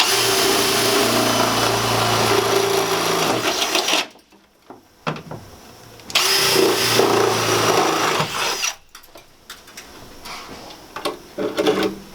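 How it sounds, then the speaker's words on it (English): A power drill bores a hole in the metal frame of a Sprinter 170 van, loud close whirring bursts that start and stop several times with short quiet gaps between runs. "you push it to the skin of the vehicle before you drill the hole"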